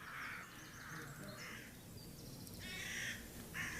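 Young jackdaws calling in a series of short, harsh caws that come in bursts, fairly close and clear, with quieter gaps between the calls.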